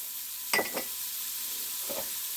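Diced onions drop into a sizzling roux in a gumbo pot, giving a sudden loud hiss and crackle with a second brief stir-scrape burst, then settling into a steady low background sizzle.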